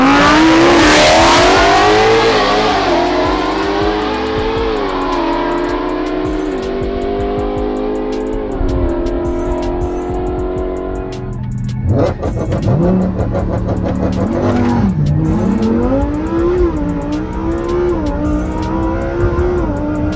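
Loud engines rev and roar as a Lamborghini Huracan STO and a 1000 HP Mustang Shelby GT500 accelerate hard in a drag race, pitch climbing through gear shifts, with a second surge of revving near the end.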